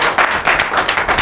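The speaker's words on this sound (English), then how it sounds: "Make una clap for him as he go back." Live studio audience of the Brekete Family radio program clapping in short rhythmic bursts, loud and close, several hands striking together in an uneven beat.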